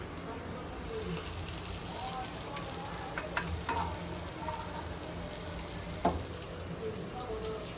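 Bangda mackerel frying in oil in a pan over a medium flame, a steady dense sizzle throughout with a few faint clinks and one brief knock, voice talking softly underneath.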